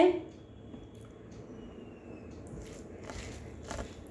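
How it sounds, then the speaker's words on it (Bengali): A group of people eating dry puffed rice (muri), with soft, crunchy bites and chewing going on steadily and close by under a low background rumble. "সবাই মুড়ি খাচ্ছে বন্ধুরা, আমাকেও মুড়ি দিয়েছে।"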